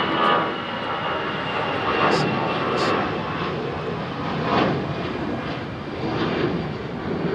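An Airbus A350 XWB jet engine spooling up at takeoff thrust on an airport runway, a steady broad roar at moderate distance that holds constant throughout, with faint higher whines riding on top.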